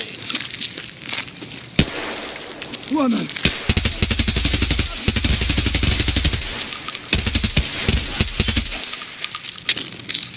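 A gun fires in the Escape From Tarkov shooter game, loud rapid bursts of crackling shots clustering through the middle and latter part, with brief pauses between volleys and some earlier clicks and faint tones.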